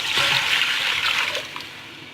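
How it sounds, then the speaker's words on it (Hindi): Water poured into a pot of meat for a tomato-meat curry, a short rushing splash and trickle that tapers off near the end, close and fairly loud with no talk. "अभी हम गोश्त में पानी डालेंगे।"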